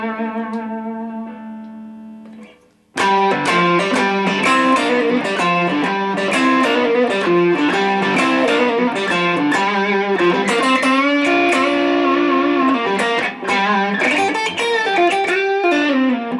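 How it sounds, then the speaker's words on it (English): A Fender Stratocaster electric guitar in its quacky in-between pickup position, playing a few ringing notes and then bright, busy strummed and picked chords with reverb. "You get that kind of quacky type sound."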